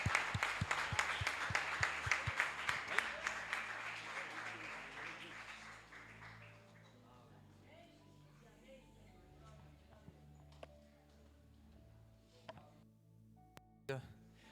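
A church congregation claps loudly for about six seconds, the applause then dying away into a quieter room with scattered sounds and a few sharp knocks near the end.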